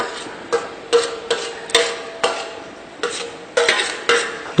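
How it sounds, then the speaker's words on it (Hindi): A spoon scrapes and knocks against a pot while desi ghee is stirred into milk boiled down to half. The strokes are rhythmic, roughly one every half second, close up with a low simmer underneath. "दो चम्मच देसी घी हमने डाल दिया है और उसको हमने मिक्स कर दिया है इसमें।"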